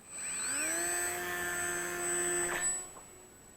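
The brushless motor of an Eachine Mini P-47 500mm RC plane spools up at launch into a steady high whine that quickly fades as the plane flies away.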